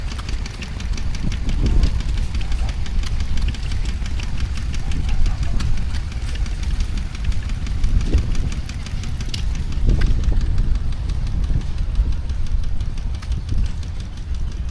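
Fordson Major diesel tractor engine running steadily at a steam and craft show, a loud continuous low chugging with faint knocking and outdoor ambience.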